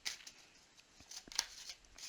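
Oracle cards being shuffled by hand, giving a string of soft, quick riffling and flicking bursts at close range with no talk, fairly faint overall.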